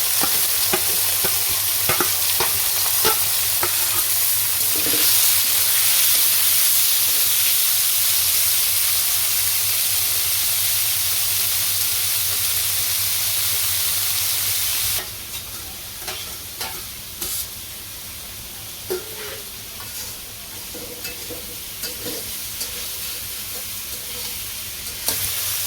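Shrimp and young jackfruit fry in oil with a loud, continuous sizzle and hiss, then the sizzle drops abruptly as stirring scrapes and clinks against the pan take over.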